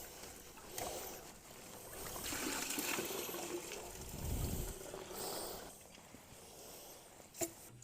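Water drains out of a Ford XB Falcon Ute into a bucket and onto the floor, a close trickling, splashing flow that rises and falls, ending in a brief knock, with no talking.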